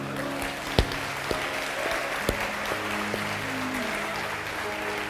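A church congregation claps steadily during a Portuguese-language sermon, a dense sustained wash of applause from a crowd, with a few sharper claps standing out and faint tonal hum underneath.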